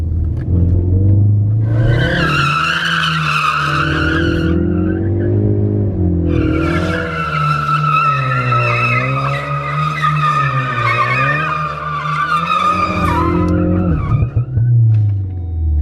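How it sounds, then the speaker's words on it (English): A rebuilt, formerly flood-damaged Ford Focus RS drifts with loud, sustained tire squeal over a revving engine, the screech dipping briefly before returning for a long, wavering slide that fades near the end. "Let's see what this drift is all about."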